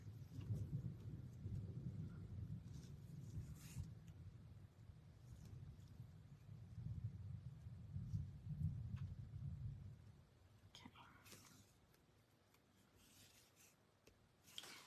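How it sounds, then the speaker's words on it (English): Distant thunder rolls as a long, low rumble lasting about ten seconds before fading into quiet. It is faint and heard alone, with no voices. "Oh, I hear thunder."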